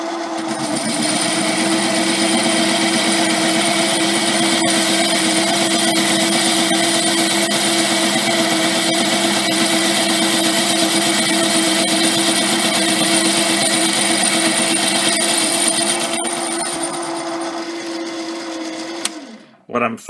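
A metal lathe taking a power-feed cut on a steady rest workpiece with a screw hole, giving a loud continuous mechanical whine and hum with a faint rhythmic pulse, winding down near the end.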